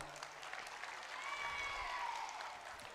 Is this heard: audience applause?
yes